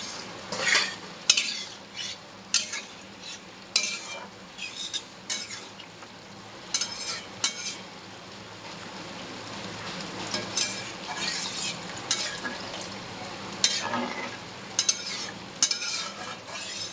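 Taro pieces fry and sizzle in a spiced masala while a metal spoon stirs and scrapes the pan, giving a steady hiss broken by repeated clinks and scrapes, close and with no talk.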